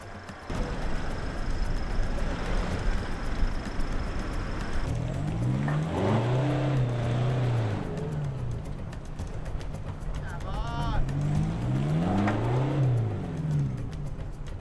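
A Nissan Navara engine revs in bursts as it winches another four-wheel drive forward on a sandy off-road track, two rising and falling engine swells over steady background rumble, with people talking.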